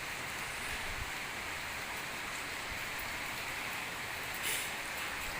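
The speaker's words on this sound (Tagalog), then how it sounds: "Ulan na may kasamang ulap." Steady, dense rainfall with fog in the mountains of Baguio hisses evenly throughout, a constant wash of droplets with occasional low thumps and no voices.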